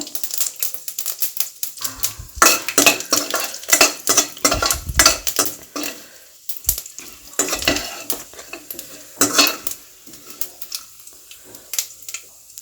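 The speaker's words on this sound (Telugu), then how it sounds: "ఆయిల్ వేడైన తర్వాత 1/2 టీ స్పూన్ జీలకర్ర, 1/2 టీ స్పూన్ ఆవాలు, 1/2 టీ స్పూన్ శనగపప్పు, ఒక ఎండుమిర్చి వేసుకొని ఫ్రై చేసుకోవాలి" Cumin, mustard seeds, chana dal and a dried red chilli fry in hot oil, crackling and popping loudly in dense irregular bursts with spoon scrapes against the pan, easing off toward the end.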